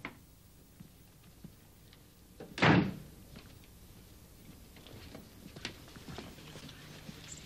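A courtroom door bangs once in a single loud burst, sharp and close, set against a quiet room tone with a few faint ticks and knocks around it.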